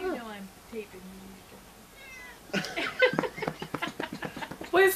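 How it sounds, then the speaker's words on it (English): A pet cat meows a few times at a home birthday gathering, the cries soft and drawn out, then people talk and laugh loudly over it. "What type of cat is that?"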